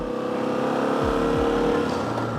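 A motorcycle with LED lights rides at night, its engine droning steadily up close with a few quick shifts in pitch as it changes speed, the rumble continuous throughout.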